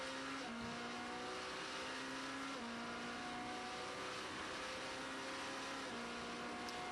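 Race car accelerating out of Mulsanne corner at the 24 Hours of Le Mans, engine note climbing steadily through several upshifts, loud and sustained with a constant roar.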